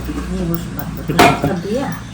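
A plate clatters sharply once amid the clinking of dishes, with people talking over it.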